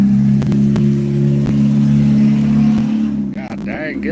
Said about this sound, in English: A loud ass car going by.